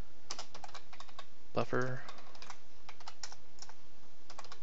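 Computer keyboard typing while writing C++ Qt code: quick clusters of light clicks scattered through the clip, fairly soft, with a short spoken word in the middle.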